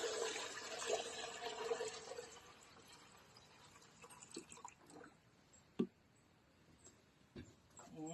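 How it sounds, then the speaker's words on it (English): Water pours into a pressure canner over jars of sweet potatoes, a soft, steady rush at the start that fades into quieter trickles and a few small clinks. "I'll pour my water in there, and I pour it a little over halfway over my jars"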